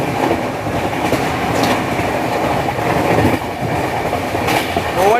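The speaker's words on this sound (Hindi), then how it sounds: "Overtaking Trivandrum New Delhi Kerala express." Trivandrum–New Delhi Kerala Express rushing past close by on an Indian railway line, a loud continuous roar of rolling wagons with rhythmic wheel clatter and a brief squeal near the end.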